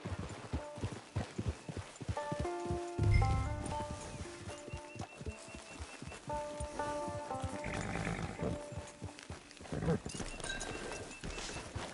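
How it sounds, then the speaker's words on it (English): A horse in a PS4 video game clip-clops steadily at a walk, hooves thudding rhythmically, with a neigh and in-game dialogue mixed over the footfalls. "It's your horse."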